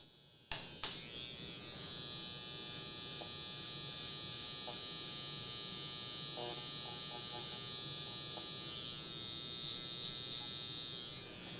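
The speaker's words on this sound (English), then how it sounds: "And I'll use my trimmer." An electric hair trimmer switches on with a click and hums steadily at close range while working around a client's ear during a haircut, its buzz wavering slightly as it moves.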